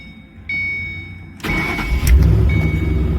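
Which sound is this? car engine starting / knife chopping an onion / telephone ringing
car engine starting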